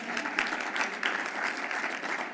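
Audience applause fills a theater hall during a mayoral candidates forum, steady and dense clapping from a large crowd throughout, fairly close and loud with no talking over it.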